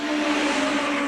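Hot rod race cars run on the Arlington track, a steady close roar of engine and tyre noise held for about a second.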